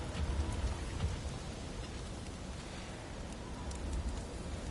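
Heavy storm rain pours steadily in God of War Ragnarok, with a dense, constant downpour that holds even throughout and rumbles faintly in the low end like distant thunder.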